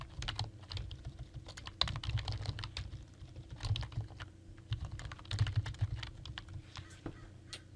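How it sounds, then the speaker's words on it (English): Rapid, steady typing on a computer keyboard while entering search keywords, the light clicking keystrokes continuing close and fairly quiet through the whole stretch with no talking. "You can type in whichever keywords you want."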